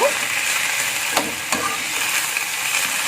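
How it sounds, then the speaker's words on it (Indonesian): Fern greens sizzle as they are stir-fried in a pan for a spicy dish with anchovies and torch ginger; a steady frying hiss continues while a spatula scrapes and taps a couple of times. "aduk rata dulu sampai pakisnya benar-benar layu"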